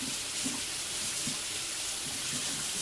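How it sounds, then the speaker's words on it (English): A kitchen tap runs steadily during hand washing, a loud, continuous close-up hiss of water with faint low splashes underneath. "Wash my hands again."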